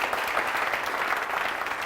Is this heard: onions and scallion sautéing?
no